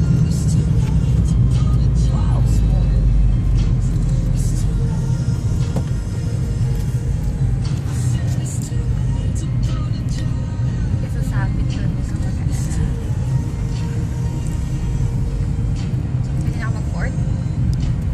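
A learner driver's manual car engine runs steadily through the whole drive, low rumble with small shifts in pitch as gears change and the clutch works, while voices talk over it inside the cabin.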